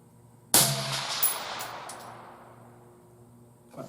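A single sharp rifle shot fired at a 200 yard target, loud and close, with a ringing echo that tails off over a few seconds into quiet outdoor air.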